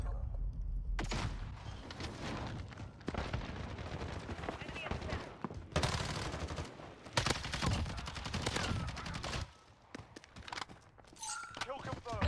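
Light machine gun fire from a Modern Warfare match, loud sustained bursts and rapid rattling volleys filling most of the stretch, with a brief lull before more shots near the end; a player speaks over parts of it.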